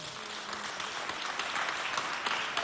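A studio audience at a Chadian independence-anniversary quiz show between two teams applauds in a short, loud, dense burst of clapping that carries on evenly throughout.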